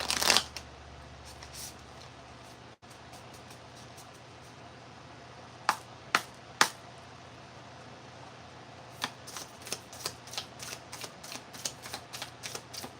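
Quick riffling bursts of playing cards being shuffled, with a run of sharp, crisp snaps toward the end over a quiet background.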